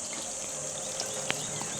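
A campground water tap runs in a steady, moderately loud broadband hiss with a faint watery texture, a few small splashes and one brief clatter near the end, with no one speaking.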